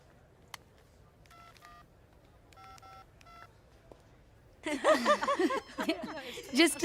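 Telephone keypad tones from a phone being dialed for an urgent call, a few short bursts of DTMF beeps in two quick groups, fairly quiet, before a voice answers loudly.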